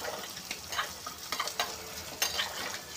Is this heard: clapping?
no